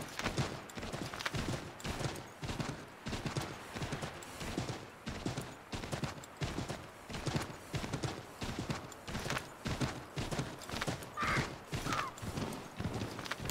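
Rapid, rhythmic hoofbeats of a galloping horse in Assassin's Creed III Remastered pound steadily throughout, close and loud, with a brief whinny-like cry in the middle.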